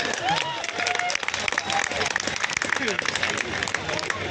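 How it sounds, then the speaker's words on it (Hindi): Audience applause at an event at Central Academy Rewa: dense, steady clapping and crowd noise that fill the whole stretch, with a voice talking over the top. "तालियां वालियां बजाओ, क्या बैठे होते हैं।"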